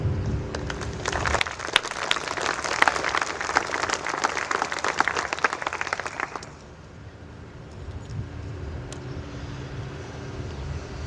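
A crowd at an outdoor park and amphitheater ribbon cutting applauds a senator coming up to speak, loud dense clapping for several seconds that stops abruptly, leaving low background rumble.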